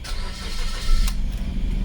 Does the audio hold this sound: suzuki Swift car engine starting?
yes